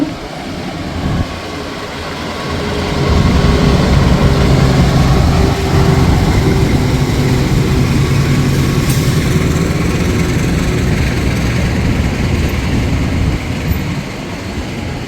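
The Tegal Bahari passenger train, running from Tegal to Pasar Senen in Jakarta, rumbles steadily nearby as it arrives, a low continuous rolling drone that swells after a couple of seconds and holds, with faint mechanical whine above.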